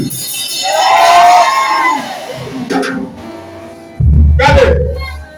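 A church congregation shouts out together in a loud, swelling crowd roar, two bursts of massed voices under reverberant hall acoustics, fading between them.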